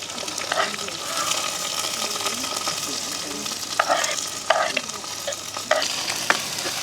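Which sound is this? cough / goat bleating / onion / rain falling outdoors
onion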